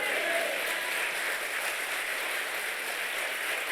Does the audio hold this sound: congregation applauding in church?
yes